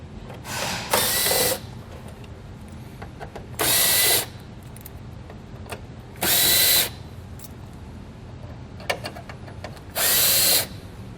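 A power drill fitted with a star bit spins out bolts from a plastic engine-bay cover on a 2019 Chevrolet, four short, loud whirring bursts separated by quiet handling noises.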